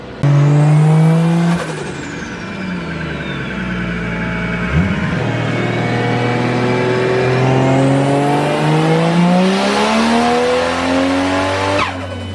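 Turbocharged car engine on a dyno revving hard through a pull, loud and close, with rising harmonic tones climbing steadily, a brief drop near the middle, then climbing again to a high-rpm wail; no talking.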